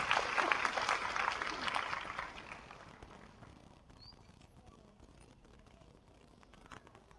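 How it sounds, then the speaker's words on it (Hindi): A short burst of applause at a government rural development ceremony welcoming a guest, loud at first and fading away after about three seconds into quiet room noise. "जोरदार तालियों के साथ स्वागत"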